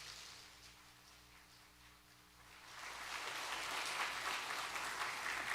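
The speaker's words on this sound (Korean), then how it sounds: "박수하겠습니다." Church congregation applause during a Sunday worship service: a quiet hum first, then clapping swells in and builds into a full, sustained round from the gathered worshippers.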